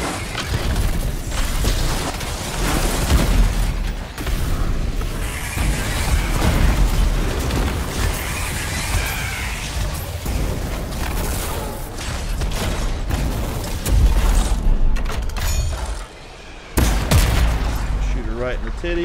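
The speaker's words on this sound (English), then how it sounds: "Flamethrower, detonate." Flamethrower blasts and detonation explosions from an action video game with a Colossus build, a dense, continuous barrage of booming bursts and mechanical noise, loud throughout with speech woven in.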